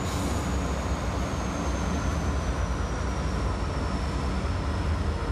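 Freight train hauled by old GE locomotives in CSX 1990s paint, a steady broad rumble and roar of rolling cars with a faint high whine gliding slowly downward, continuous and fairly loud.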